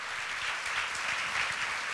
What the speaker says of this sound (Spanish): Dale un aplauso a ese rey de gloria.